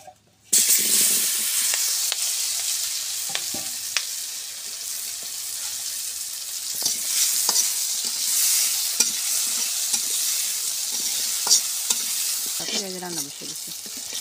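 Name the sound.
eggplant frying and being stirred in a pan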